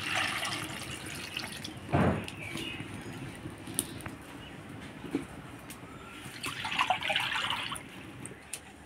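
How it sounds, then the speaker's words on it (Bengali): Small new red potatoes are washed in water, with trickling, sloshing and splashing at close range and a brief louder splash near the start. "প্রথমে আমি আলুটা ধুয়ে সিদ্ধ করে নেব।"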